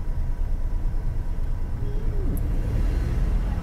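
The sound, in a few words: car engine revving as the accelerator is pressed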